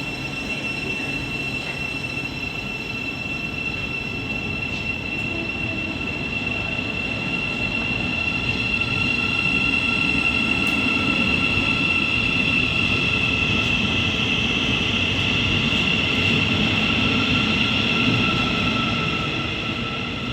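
A Great Northern train pulls out of Hitchin station platform on the East Coast Main Line, with a loud continuous rumble of rolling wheels and a sustained high-pitched wheel squeal throughout, close by and steady.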